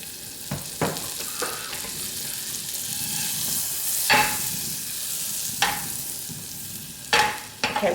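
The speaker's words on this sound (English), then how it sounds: "We add a knob of butter, and when that is all melted and starting to sizzle" Melted butter sizzles steadily in a hot pan, a soft continuous crackle broken by a few sharp clicks and scrapes of a utensil against the pan.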